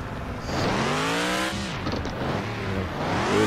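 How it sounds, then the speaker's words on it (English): A car engine with a new aftermarket exhaust revs and roars in the Offroad Outlaws video game, loud and continuous with rising and falling pitch, no talking. "I love the new exhaust."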